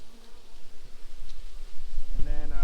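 Honeybees buzzing steadily around a double deep brood box hive, a close, dense insect drone filling the air, with a brief voice rising near the end.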